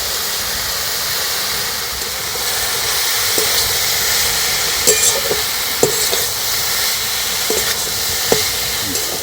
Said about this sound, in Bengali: নাড়াচাড়া করে সবজিগুলো ভেজে নিচ্ছি।